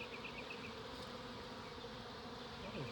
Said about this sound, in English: The bees are already starting to cluster up high, so we'll push them back down here to us in a little bit.